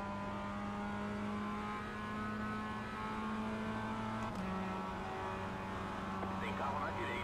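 Racing engine of a Mazda rookie car in iRacing, holding a steady droning tone that shifts pitch midway as the car changes gear, with a player talking over it throughout.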